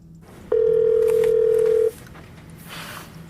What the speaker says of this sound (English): So I call him and I decide to record the phone call.